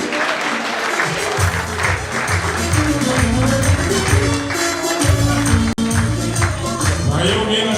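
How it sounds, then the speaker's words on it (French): A crowd at a Léviko Hyundai hockey player introduction applauds steadily and loudly, with sustained clapping and cheering throughout and music or a voice faintly underneath. "Une bonne applaudissement pour Chevy."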